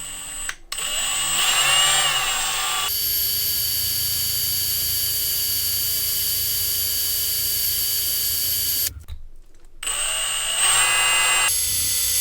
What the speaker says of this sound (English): Just drilling in, getting the screw in